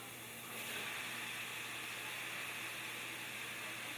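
Chopped Roma tomatoes, rinsed of seeds, dropped into a hot pan, setting off a steady, broad sizzling hiss that swells after a moment and holds evenly, fairly quiet with no talk.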